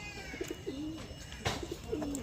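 A Madras pigeon coos nearby, two soft throaty rolling calls with a short pause between them, over faint background noise.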